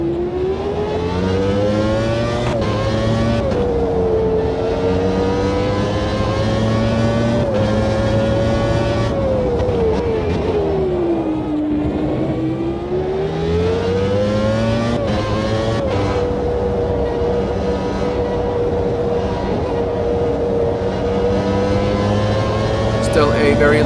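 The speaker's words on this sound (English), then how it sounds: "Down the back straight, once again very hard, braking into turn 5." Race car engine in a racing video game at Road America, droning loudly with a steady high whine that drops and rises as it brakes hard into the sharp left-hand turn 5, with commentary running over it.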